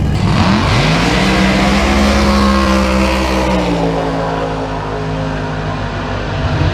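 A drag racing dragster's engine rumbles loudly and steadily at close range as the car creeps slowly backward to the start line at a European dragway, its deep idle holding throughout with no voices.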